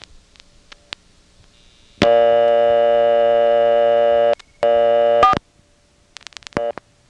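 Sharp mechanical clicks from a step-by-step telephone exchange selector absorbing a dialed digit, broken by a long steady electronic tone that cuts off, resumes, then gives way to more clicking.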